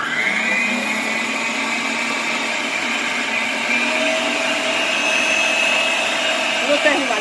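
An electric mixer beats an ice cream base in a bowl with a steady, loud, continuous whir that holds the same pitch throughout, without a break.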